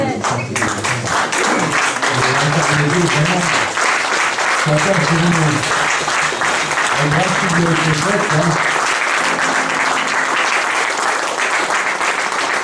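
A church congregation applauding loudly and continuously, with voices calling out over the clapping throughout.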